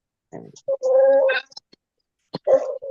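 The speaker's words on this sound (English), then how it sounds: "Oh, there's my blind dog. Probably hear him." A blind dog whimpers inside a house: a few short whining cries, then a longer drawn-out whine and a brief yelp, clear against quiet surroundings.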